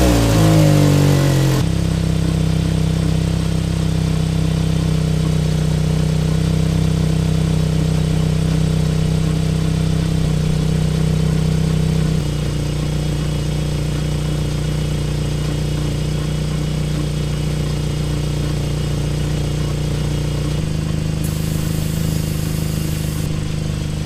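A car's engine idles steadily throughout, a continuous low hum during a transmission fluid change, with a slight shift in tone midway and no speech over it.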